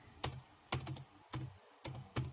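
Sparse keystrokes on a computer keyboard, about five separate clicks spaced irregularly, quiet and close, as a password is entered on a Windows 10 login screen.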